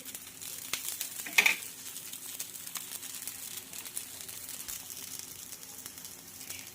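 Urad dal snack frying in a pan of oil, a quiet steady sizzle with soft crackles and a sharper spatter near the start, heard alone.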